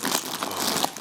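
Close, continuous crinkly rustling of fabric or material in a cemetery, a dense brushing texture with small sharper crackles, steady and fairly loud throughout.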